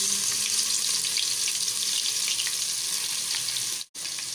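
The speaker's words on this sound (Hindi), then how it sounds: "तेल हमारा गरम हो गया है। अब हम इसमें डालेंगे पहले लहसुन अदरक का पेस्ट" Garlic-ginger paste fries in hot oil for a spicy taro dish, giving a loud, continuous hiss and sizzle that cuts out briefly near the end before resuming.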